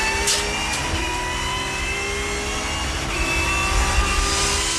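A Volvo touring car howls at full speed from an on-car position during a 1990s touring car race, its loud engine holding steady high revs with slight pitch shifts and a couple of brief sharp clicks.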